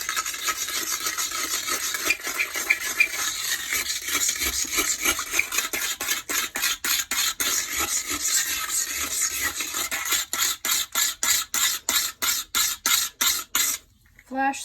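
A wet pumice stone scrapes the water line inside a toilet bowl, first as continuous gritty rubbing and then as quick rhythmic back-and-forth rasping strokes, close up with no talking.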